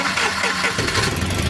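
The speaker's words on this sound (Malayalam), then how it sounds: "സ്റ്റാർട്ട് ചെയ്ത് കഴിഞ്ഞാൽ എൻജിൻ സ്റ്റാർട്ടാവും." A Tata Nano Twist XT petrol car, just after an ECM repair, cranks and catches. Its small engine settles into a close, steady, low idle rumble partway through.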